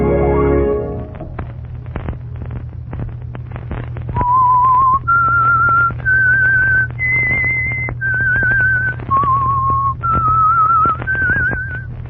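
A whistled signal tune for the Signal Oil radio program The Whistler: a steady sequence of about eight clear sustained whistled notes stepping up and down, played over a low continuous hum, with no talking.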